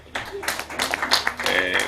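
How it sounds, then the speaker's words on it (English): Audience applause at a curriculum development workshop, scattered hand claps breaking out and building over a couple of seconds, close and moderately loud, mixed with murmuring voices. "Please, a round of applause"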